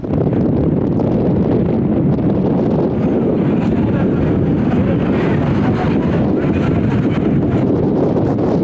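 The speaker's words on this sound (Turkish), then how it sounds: "şiddetli bir rüzgar var bugün Konya'da" Strong wind roars and buffets steadily against the microphone, a constant heavy rumble with no break, in Konya, Turkey, at a football match.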